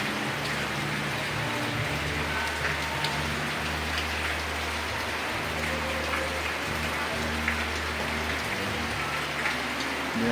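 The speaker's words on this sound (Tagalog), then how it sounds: "Sobrang lakas ng ulan." Heavy rain pouring steadily during a delivery rider's workday, a dense, constant hiss of drops striking surfaces with a low rumbling undertone throughout.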